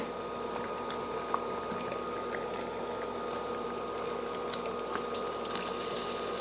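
Wheat flour halwa bubbling in a pan, a soft continuous simmer with faint irregular pops and plops, close and steady with no voices.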